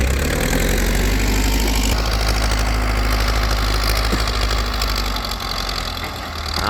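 A Ford tractor levelling a rice field runs loud and steady throughout with a deep low rumble and mechanical clatter, no voices over it.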